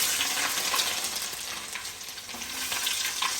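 Cleaned garlic and ginger frying in hot oil for a fish pickle, a loud, steady crackling sizzle with dense popping and spitting throughout, no voices.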